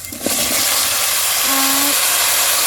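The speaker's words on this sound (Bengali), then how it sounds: "এই তেলের মধ্যে ফোড়ন দিচ্ছে মা শুকনো লঙ্কা মানে জিরে জিরে আলুগুলো দিয়ে দিচ্ছে" Dry chillies, cumin and potatoes hit hot oil in a home kitchen, a loud, steady hissing sizzle that fills the whole clip, close and continuous with no talking.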